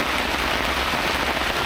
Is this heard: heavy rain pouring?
yes